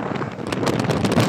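Strong wind buffets the microphone during a foggy, heavy-rain morning motorcycle ride on a mountain loop road, a loud steady broadband roar with gusty surges throughout and no talking.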